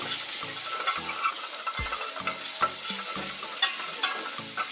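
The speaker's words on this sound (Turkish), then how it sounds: "Şöyle sarımsağı da çok az salçayla beraber karıştırıyorum." Garlic and a little tomato paste sizzle in a hot pan while a utensil stirs and scrapes through them, with soft knocks against the pan at an uneven rhythm, close and steady.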